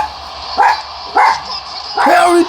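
A dog barks three separate times, loud and close, each bark spaced about half a second apart, over faint background hum.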